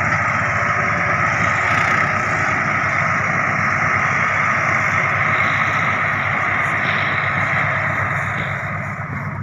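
A Swaraj 855 tractor engine runs loud and close, holding a steady rumbling drone throughout with no voices.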